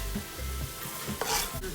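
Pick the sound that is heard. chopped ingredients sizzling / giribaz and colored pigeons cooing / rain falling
chopped ingredients sizzling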